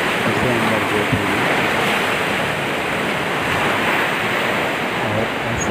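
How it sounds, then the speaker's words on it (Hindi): Water rushes steadily through a raised sluice gate during the rainy season, a loud, continuous broadband roar with no pauses, heard up close. "ये है उसका गेट, जो पानी गेट को ऊँचा कर दिया, पानी जा रहा है।"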